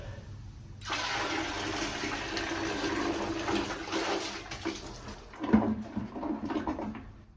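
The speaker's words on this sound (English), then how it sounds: "As you can see, the water flushed out." A bucket of water pours into a toilet bowl with a steady rush, then the toilet flushes with a surging gurgle that drains away, fairly close.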